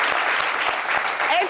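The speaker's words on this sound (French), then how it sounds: "Applaudissez pour Caprice." An audience claps steadily for Caprice, a dense burst of applause filling the room, loud and close.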